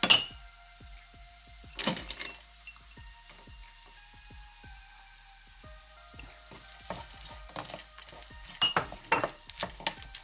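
Chicken and rice frying in a pan as peas go in, a steady soft sizzle broken by bursts of clattering and stirring, with louder crackling flurries near the end; no voices.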